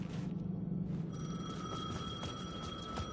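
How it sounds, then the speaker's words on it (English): A telephone rings in the video game Alan Wake 2, a steady bell-like trill over low ambient hum that starts after a second and repeats evenly to the end. "The phone was ringing."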